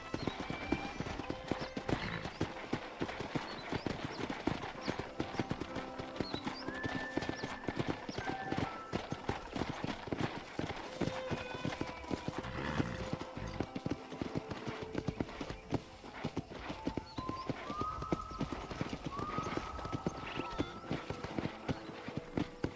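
Steady hooves clip-clop at a walking pace alongside a horse's occasional whinny and soft ambient outdoor sounds, in the game Red Dead Redemption, with a game-like mix.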